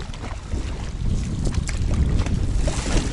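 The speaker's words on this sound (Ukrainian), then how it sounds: "Ну Вітер сьогодні дуже сильний, подекуди шквальний." Strong, gusty wind of about 8 m/s buffets a small fishing boat on a wild pond, a steady broadband roar with low rumble and splashing water, loud and continuous throughout.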